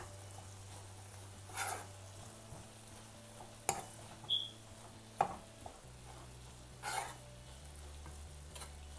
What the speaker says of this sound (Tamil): இப்போ இதில் நம்ம துருவி வச்சுக்க தேங்காயை வந்து சேர்த்துடலாம். நான் வந்து ஃப்ரோசன் தேங்காய் எடுத்திருக்கேன். இதை வந்து நல்லா மிக்ஸ் பண்ணி விட்டுடலாம்.